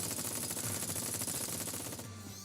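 Rapid gunfire from a turret firing at the player in a video game, a dense continuous rattle that thins out near the end.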